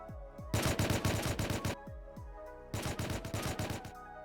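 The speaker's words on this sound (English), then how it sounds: "We heard some more gunshots nearby, so we thought we might as well investigate them." Bursts of gunfire in the survival video game Rust, two loud rapid automatic volleys close by, separated by a short pause with a few single shots.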